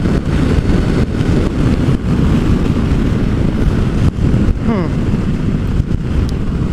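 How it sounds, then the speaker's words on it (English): Steady, loud wind roar buffeting a helmet while riding a 2016 Honda CB500X motorcycle at high speed, around 160 kph, a continuous broadband rush with no pauses. "there was a lot of wind on the helmet, but it was stable"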